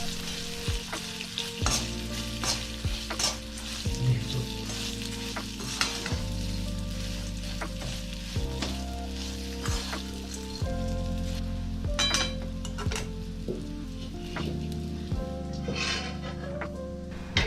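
Homemade Maharashtrian chivda mixture with roasted chana being stirred in a pan, with a continuous dry rustle and sizzle, repeated scrapes and knocks of the spoon, and a low steady tone underneath, close and without talk.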